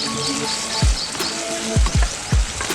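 Prawns frying in a pan, giving a close, steady sizzle throughout, broken by several soft low thumps as the pieces are stirred and turned; no talk.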